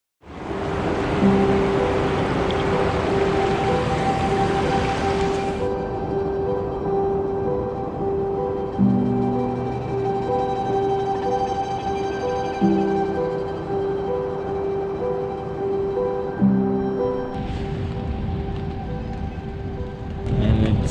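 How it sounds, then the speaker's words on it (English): Rain falls at a mountain campsite on the Hampta Pass trek, making a steady broad hiss for about twenty seconds, with a faint tonal hum and a few short tonal bursts over it. "started raining. Can you hear that?"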